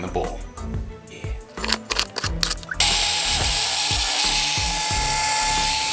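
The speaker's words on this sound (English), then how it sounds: "Chop them up, put them in the food processor, rice them, throw them in the bowl." Chopped broccoli is riced in a food processor, its motor starting partway through as a loud, steady, close whirring drone after a stretch of speech and kitchen clatter.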